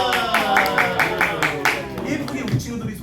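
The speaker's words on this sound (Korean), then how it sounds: "박수!" Children and parents clap their hands together at a kids' play class, with a run of quick, fairly loud claps blending with voices and a sung or spoken tone.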